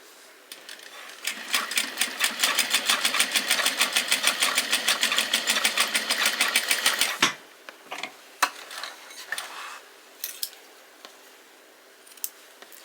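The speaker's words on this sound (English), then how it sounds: "just sew it straight down in a straight line" A sewing machine stitches the corner of a dog collar in a fast, even run of close clicks for several seconds, then stops, leaving a few scattered handling clicks and snips.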